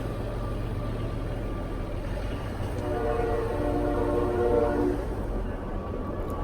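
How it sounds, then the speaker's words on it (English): A train rumbling past at a distance behind a steady low drone of wind or idling, with a faint horn-like tone rising briefly midway. "There's a train going by."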